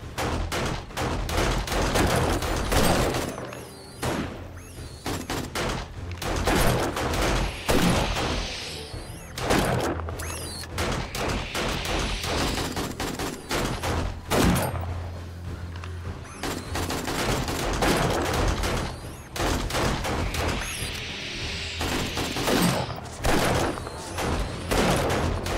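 Gunfire fills a horde night in the video game 7 Days to Die. Dense bursts of automatic fire and single shots repeat almost without pause, with booming impacts and brief gaps between volleys.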